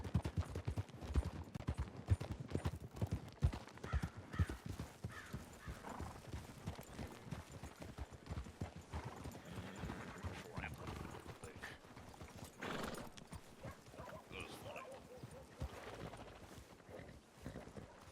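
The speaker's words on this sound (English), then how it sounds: "I love this horse." A horse in the WildRP video game clip-clops at a steady gait and gives an occasional whinny, with a voice talking over the hoofbeats at moderate level.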